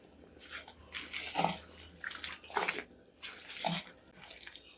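Water and buttermilk poured into semolina batter for sooji pudla, with three liquid splashing, trickling bursts at roughly even intervals, close and moderately loud, no talking.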